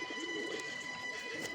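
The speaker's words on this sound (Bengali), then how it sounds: "দেখো সাদা কালারের পায়রা দিয়েছে" A white pigeon coos softly in a brief, low call heard close, over a steady background hum.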